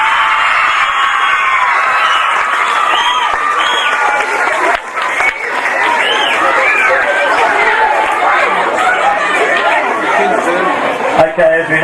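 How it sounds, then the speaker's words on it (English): A large crowd claps and cheers for Australian rules football great Tony Lockett, a dense, steady wash of applause with chatter and shouts woven in, loud and close throughout. "one more big round of applause for Tony Lockett"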